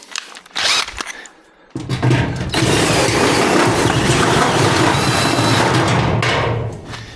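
A step drill bit whirs in short bursts, then bites into metal with a sustained grinding buzz that runs several seconds before winding down.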